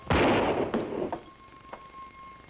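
A single loud, close gunshot from a pistol fired in a duel, a sharp blast with a short decaying echo, followed by quieter knocks and a faint ringing tone.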